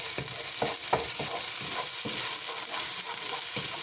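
Minced garlic and ginger are stirred in a hot pan, a close, steady sizzle broken by repeated scraping strokes of the utensil at an irregular pace, with no voices.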